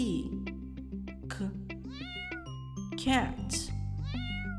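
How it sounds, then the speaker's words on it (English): A cat meows repeatedly in close, clear cries with rising and falling pitch, set against a steady musical backing of sustained tones. "Cat."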